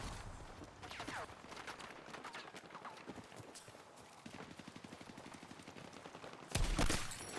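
Rapid bursts of gunfire, including sniper rifle shots, sound in a Battlefield 6 firefight with clattering in between, ending in a loud close blast near the end.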